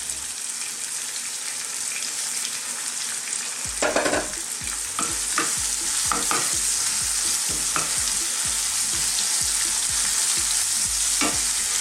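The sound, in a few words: ingredients frying and being stirred in a pan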